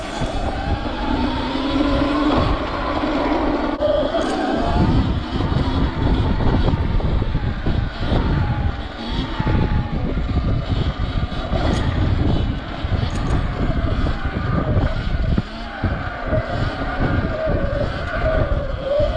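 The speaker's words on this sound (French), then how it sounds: "Là quand je monte un escalier avec cette moto les amis c'est impressionnant." An electric motocross bike climbs a staircase, its motor giving a steady, rising whine under load with tire and frame clatter, close and continuous throughout.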